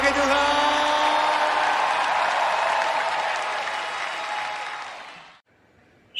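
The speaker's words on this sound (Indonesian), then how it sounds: "Memberikan sorak-sorai yang paling meriah bagi Tuhan." A worship congregation cheers and applauds in a loud, sustained wash of clapping and whoops that fades toward the end before cutting off, with a voice briefly audible underneath.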